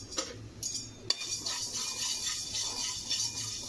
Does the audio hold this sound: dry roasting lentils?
yes